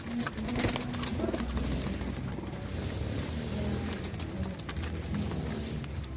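Pigeons cooing at an outdoor pet market in Angeles, with a steady bed of crowd and traffic noise and low coos running through the whole stretch.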